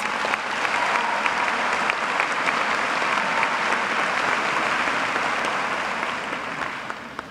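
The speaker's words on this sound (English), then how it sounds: "Please give them a round of applause." Graduation audience at John Glenn High School's 2013 ceremony applauding the staff, a broad, loud wash of many hands clapping in a large hall, sustained for several seconds before tapering off at the end.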